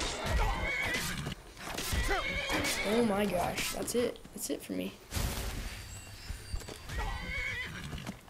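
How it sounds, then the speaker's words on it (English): A horse in the video game Skyrim whinnies and neighs repeatedly during combat, with hoof clatter and thuds, while a player talks over it. "this time it's a horse attacking me and not a mammoth"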